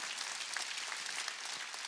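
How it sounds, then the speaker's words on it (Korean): Congregation clapping during a Wednesday church service, a dense, steady wash of applause spread evenly across the short stretch with no talk over it. "박수."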